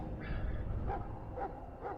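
A companion dog in the video game Dragon Age: Origins gives three short barks roughly half a second apart, over steady low game background sound.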